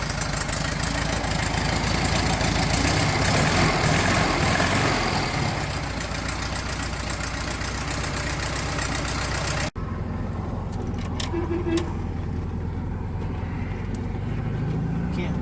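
A VW Super Beetle engine idles with a steady, continuous rumble after a carburetor rebuild, loud and close at first, then heard more muffled from another spot in the later part.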